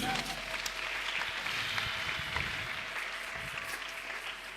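Applause from a church congregation during a worship service, a steady broadband wash of clapping that holds evenly throughout with faint voices mixed in.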